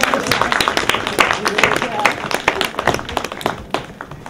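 An audience applauds a contestant at the 2015 African Union Expo, with dense, close clapping running throughout and voices mixed in.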